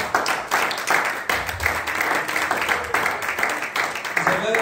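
A church congregation applauds and acclaims loudly, with dense clapping and cheering voices running steadily for several seconds.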